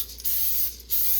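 Canola oil cooking spray hisses from a can in two short bursts with a brief pause between them, close and loud, as a pan is greased for grilled keto burritos.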